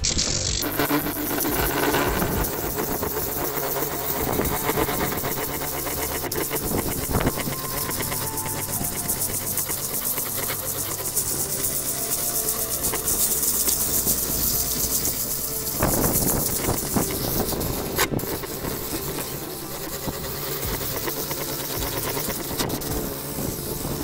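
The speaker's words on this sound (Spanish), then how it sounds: "Con la pulidora que nosotros fabricamos en el canal, hecha con un motor de lavadora." A steady, loud motor whine drones on with grinding, rasping texture, a homemade sander built from a washing machine motor working wood with 80-grit sandpaper, running continuously with no talking.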